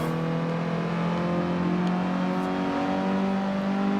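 A racing car engine in Forza Horizon 2 drones at steady high revs, loud and close, with a constant whirring tone and no talk over it.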